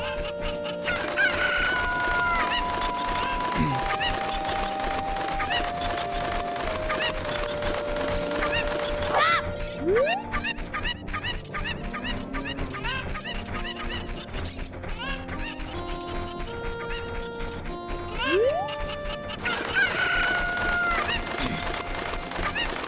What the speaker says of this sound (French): Je les ai envoyés où mes deux autres poulets?